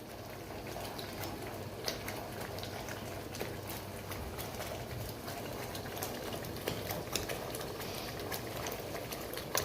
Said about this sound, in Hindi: छींटे बाहर आना शुरू हो गए हैं और चूल्हा ख़राब होना शुरू हो गया है